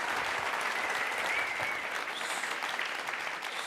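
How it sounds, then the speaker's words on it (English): Loud, continuous applause fills the space, a dense wash of clapping from a big audience that holds steady throughout. "a big round of applause"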